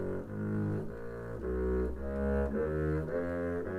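A double bass plays a grade 7 major scale in slurred groups of four, each bowed note ringing clearly and loud, rising and falling steadily, with no talk.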